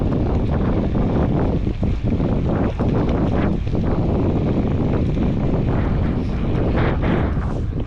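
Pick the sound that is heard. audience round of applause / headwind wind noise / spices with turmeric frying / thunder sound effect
headwind wind noise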